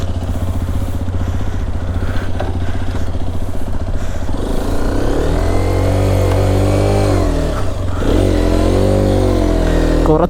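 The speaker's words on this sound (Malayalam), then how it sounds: "നമുക്ക് എന്തായാലും ഒരു ഷോർട്ട് റൈഡ് തന്നെ പോവാം. നമ്മുടെ ഏറ്റവും ലേറ്റസ്റ്റ് ആയിട്ടുള്ള ഹീറോ എക്സ്പൾസിൻ്റെ 210 എടുത്തിട്ട്" Hero XPulse 210 motorcycle engine running steadily and loud while riding a short trail on loose soil, with throttle rising and falling as it revs up through the middle and again near the end, no talk.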